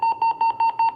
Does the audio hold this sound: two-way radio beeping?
yes